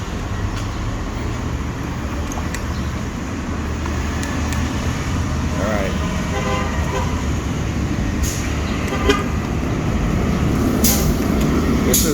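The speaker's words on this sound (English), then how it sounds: "a second local bus that passed by that's not stopping" A local bus passes close by without stopping, a loud, steady engine rumble with road noise and faint hissing brake sounds throughout.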